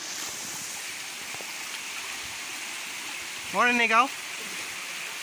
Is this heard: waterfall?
yes